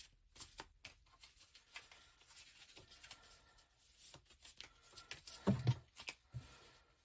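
Playing cards are shuffled softly and close by during a card reading, with quiet rustles and light flicks in an irregular rhythm and a slightly louder shuffle near the end.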